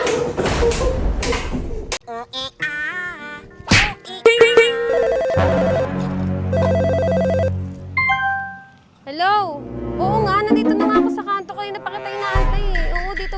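A cellphone ringtone plays amid a busy comedy compilation, melodic electronic tones chirping and rising in bursts, mixed with people talking, thumps and other clip sounds.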